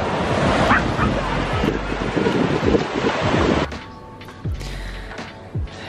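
Dogs bark on Hilton Beach in Israel, a few sharp barks rising over steady surf and strong wind buffeting the microphone, which eases partway through.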